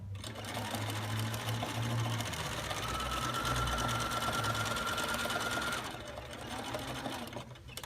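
A sewing machine stitches a doll's pigtails in a steady, close whirring run of several seconds before slowing, with faint background sounds.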